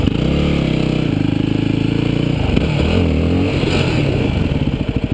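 A Yamaha WR250X motorcycle on stock gearing revs loudly and close, engine note climbing and dropping in uneven bursts as the rider attempts wheelies, with some clatter as the pitch shifts.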